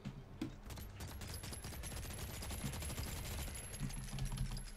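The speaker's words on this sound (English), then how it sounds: "These bullets aren't doing a whole heck of a lot." Dense, continuous rapid gunfire in ARK: Genesis Part 2, bursts of bullets rattling without pause against a large creature, steady and moderately loud with a faint high whine running through.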